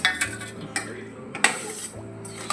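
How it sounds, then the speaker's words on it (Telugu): Potato chaat with onion and coriander being mixed in a bowl, close repeated clinks and scrapes of a spoon at an uneven rhythm, with no talk. "ఇప్పుడు ఇందులో కొంచెం కొత్తిమీరను వేసుకొని మళ్ళీ కలుపుకోవాలి"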